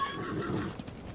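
A horse whinnies in the Ghost of Tsushima video game, a short quavering neigh heard faintly over soft background game ambience.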